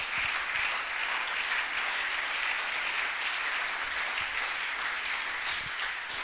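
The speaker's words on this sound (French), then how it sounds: "est-ce qu'on peut l'acclamer?" A church congregation applauding during a sermon by a prophet: sustained, even clapping from a large crowd at moderate level, with no voices over it.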